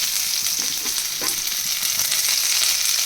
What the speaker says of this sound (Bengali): চিনি পাঁচফোড়নটা হয়ে গেলে দিয়ে দেব পেঁয়াজ কুচি